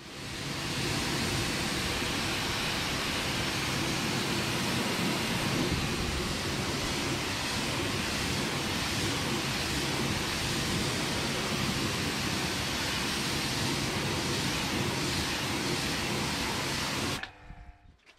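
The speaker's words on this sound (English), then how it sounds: "a good pre-wash and pre-rinse with the pressure sprayer and pressure washer" A pressure washer sprays hard and steady on the wheels of a Porsche Spyder, a broad, loud, hissing rush held constant for most of the stretch before it cuts off abruptly at the end.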